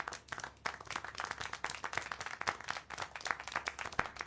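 Hands clap in a quick, steady, faint rhythm for several seconds in the video game Syberia: The World Before, with slightly uneven strikes.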